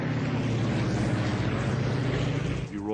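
A propeller-driven Grumman Wildcat fighter plane dives in a steady, droning roar over a World War II air battle at Guadalcanal, held loud and close throughout, with a faint voice underneath.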